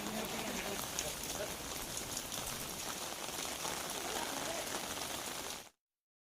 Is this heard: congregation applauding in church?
no